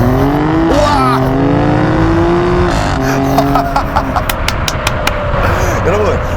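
A Maserati Grecale Trofeo SUV, 2080 kg, all-wheel drive, launches hard from a standstill with a rising engine roar. The engine note swells loudly, and excited voices exclaim over it.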